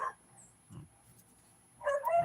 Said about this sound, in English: But It's their dog up there fighting.